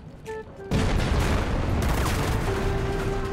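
Loud, close burst of gunfire in the World War II shooter Enlisted from an SVT-40 rifle fitted with a drum magazine, a dense explosive blast after a few short tones, then a sustained rumbling roar.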